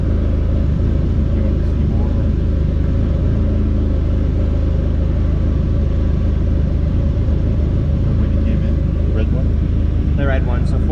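Turbocharged Dodge SRT-4 engine running on a dyno, a loud steady rumbling drone with a faint rising whine, close and sustained for the whole stretch.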